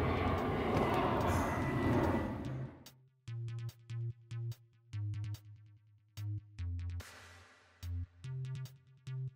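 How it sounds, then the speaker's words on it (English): A loud airplane roar for about three seconds, cut off abruptly and followed by a series of short, rhythmic tonal bursts. "That's an airplane, and that pollutes too"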